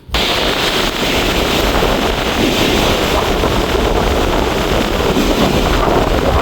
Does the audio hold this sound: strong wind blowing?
yes